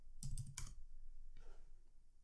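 An answer is typed on a computer keyboard in a quick burst of several close key clacks, a brief pause, then a couple more softer keystrokes in a quiet room.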